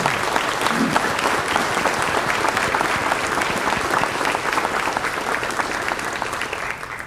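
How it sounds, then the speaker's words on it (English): Steady, dense applause from a dinner audience at a law enforcement honors dinner, sustained for several seconds and tapering slightly at the end. "can I have a round of applause for the heroes that we are"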